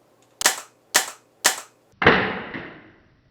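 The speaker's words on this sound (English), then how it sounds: "I've already test fired this a couple of times, and it is a Nerf gun. It fires Nerf darts" A Cheetah Beast Blaster toy Nerf gun from Power Rangers Beast Morphers fires darts, giving three sharp, evenly spaced pops followed by a longer, louder discharge, heard close and alone.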